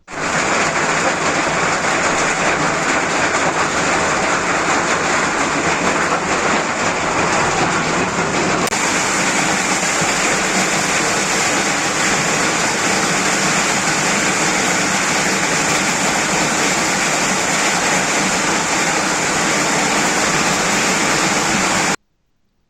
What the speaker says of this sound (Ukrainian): Ну от зараз почнеться цей кусочок, град, дощ страшне.